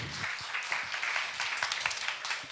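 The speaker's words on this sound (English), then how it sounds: "Round of applause." An audience at a tech accelerator event applauds in a dense, steady patter of many hands that holds evenly through a brief stretch, with no voices over it.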